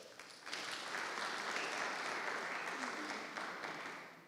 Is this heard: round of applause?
yes